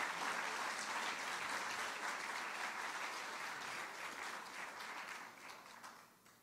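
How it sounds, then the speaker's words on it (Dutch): Sustained applause from an audience at a CD presentation celebrating a Surinamese pop anniversary, dense and steady for about five seconds before tapering off at the end. "Mag ik een applaus daarvoor?"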